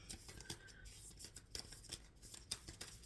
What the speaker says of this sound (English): Okay, so I am going to shuffle